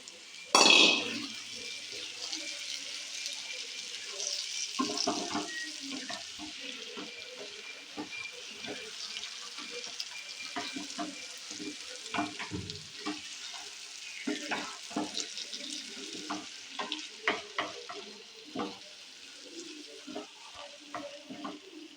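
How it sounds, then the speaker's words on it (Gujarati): Dried pigeon peas (tuvar) stirred and cooking in a pan for Gujarati tuver totha, with steady close sizzling and frying, scraping stirs and occasional clatter throughout, no talk. "હવે નાખશું સૂકી તુવેરો"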